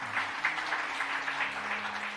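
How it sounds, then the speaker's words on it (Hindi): During a devotional talk, an audience claps together in a short, dense burst of steady applause that sounds moderately loud and somewhat distant. "तब जैसे आप लोगों ने ताली बजाई, वैसे साईं राम और काजल वैद्य ओझा दोनों ताली"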